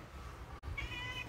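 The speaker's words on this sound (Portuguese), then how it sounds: "o gato passa na minha frente" A cat gives a single drawn-out meow in a dark indoor space, moderately close, over a low background hum.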